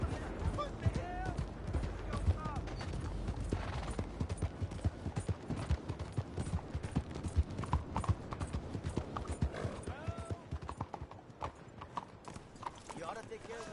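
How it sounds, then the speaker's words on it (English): Horse hooves clip-clop steadily in Red Dead Redemption 2, a dense rhythmic stream of close hoofbeats with an occasional whinny, while characters talk over them. "You ought to take care of that horse there."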